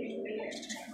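A pair of local giribaz pigeons from Rajshahi give a brief, soft, low coo at close range against faint background noise.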